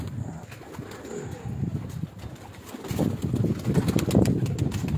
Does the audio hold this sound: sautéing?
no